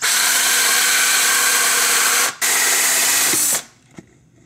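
A power drill running backward whines steadily at close range while cutting a hole for a hydroponic net cup, briefly pausing, then running again before stopping, followed by a faint click.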